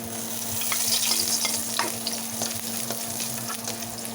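Ginger fries in a pan for sweet and sour salmon, making a dense, steady sizzle close by. There are light stirring taps and no talk.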